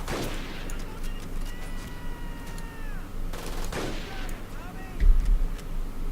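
Machine gun fire and scattered shots echo in the video game Medal of Honor Pacific Assault as an enemy machine gun nest is repeatedly remanned. The sharp reports are moderately loud and spaced across a steady battle din.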